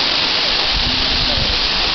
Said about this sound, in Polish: Już jesteśmy na wodospadziku.